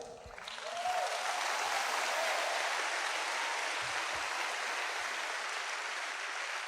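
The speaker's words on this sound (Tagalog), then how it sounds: "Konti na lang atang pumapalakpak sa pagsisisi ah." Church congregation applauding during a sermon, steady dense clapping that swells within the first second and holds loud and even to the end, with no voices over it.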